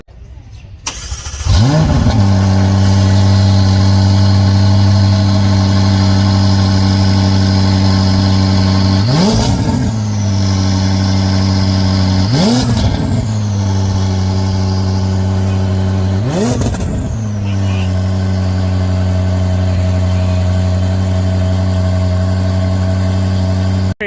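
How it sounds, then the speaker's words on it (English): A McLaren 570S with an FI exhaust idles loudly up close and is revved repeatedly, four sharp throttle blips rising and falling over a steady, deep idle. "That wonderful sounding FI exhaust of this McLaren 570S"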